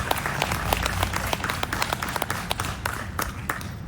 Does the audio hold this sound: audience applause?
yes